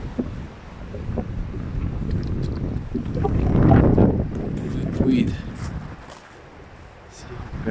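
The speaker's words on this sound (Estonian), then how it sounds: "Kui korralik tuul on!" Strong wind blowing outdoors, with gusty buffeting and rumble on the microphone that swells mid-way and eases toward the end, while a person speaks Estonian over it.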